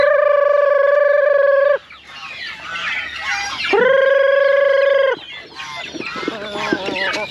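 Chickens and chicks on a backyard pig and chicken farm: two long, loud crowing calls, with clucking and scattered bird chatter between and after them.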